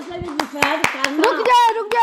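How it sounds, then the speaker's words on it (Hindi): Hand clapping in an evenly spaced rhythm mixes with singing voices in a group setting, sharp close claps beating along throughout as voices carry a tune over them. "Once more, ताली होनी चाहिए जरा इनके लिए।"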